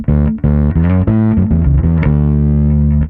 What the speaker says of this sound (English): Now, if I turn on the distortion